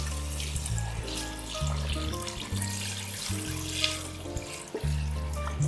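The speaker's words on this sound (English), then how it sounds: "So, we put water." Tap water runs steadily into a cooking pot for arroz caldo, a continuous splashing fill under a low tonal hum, fairly close and unbroken throughout.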